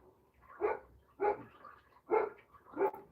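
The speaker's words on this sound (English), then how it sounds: "my dogs pick now to go absolutely fucking nuts" Dogs bark excitedly indoors: four evenly spaced barks, moderately close but not loud, each a short sharp burst, with no talk.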